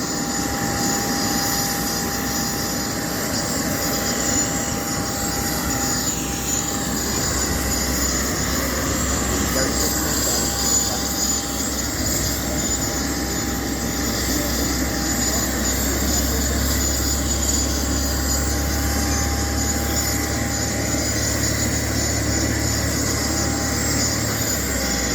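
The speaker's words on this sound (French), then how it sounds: "on a un Cessna juste à côté là qui vient d'arriver" A Cessna light aircraft engine drones steadily with a constant high whine throughout, loud and unbroken, with faint voices in the background.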